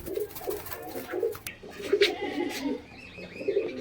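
A pair of tumbler pigeons coo in soft, low repeated phrases nearby, with a few faint rustles and small chirps between calls.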